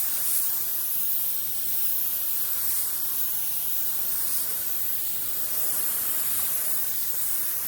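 An HVLP spray gun run at 10 to 15 psi lays clear coat on a car body panel during a mobile body repair, giving a steady, close, unbroken hiss of atomized air with no talking.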